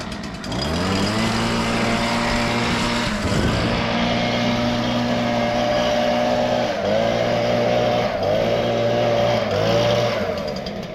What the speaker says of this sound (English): Go ahead and follow me and I'll show you blowing leaves.